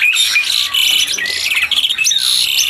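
Caged songbirds sing and chirp densely at a bird market kiosk in Pramuka, a loud, continuous tangle of high overlapping whistles and trills with no talk.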